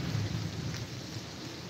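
Heavy rain falls steadily during a winter thunderstorm in Alexandria, with a low rumble of thunder at the start fading into an even, moderately distant rain hiss.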